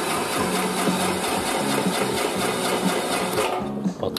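A rice harvester's engine runs roughly near the microphone, a dense mechanical clatter with repeated throttle blips pulsing in a steady rhythm, then faltering and dropping off at the end.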